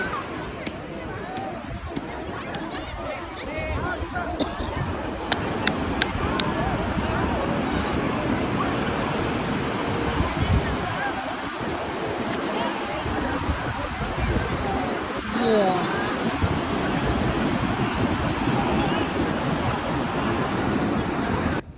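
Ocean waves wash steadily onto a resort beach, with broad continuous surf and wind noise filling the scene and no clear speech.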